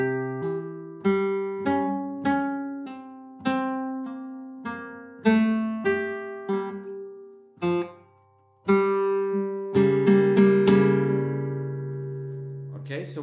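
Flamenco guitar plays a bulerias falseta, a run of plucked single notes and legato phrases building to a ringing strummed chord, close and clear with no talking.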